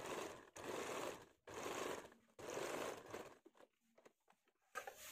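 A sewing machine stitches blouse fabric and lining together in three steady bursts of rapid, close mechanical whirring, separated by short pauses, then a few softer clicks and handling sounds; faint overall, with no talking.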